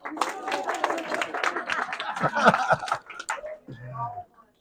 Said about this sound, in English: And one more time, round of applause for the Gut Busting Champion.